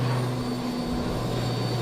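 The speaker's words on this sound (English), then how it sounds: "they did start their takeoff roll further behind the other ones" An airplane taking off at Tauranga airport, its engine noise a steady, loud, continuous roar with a low droning hum, heard alone without talk.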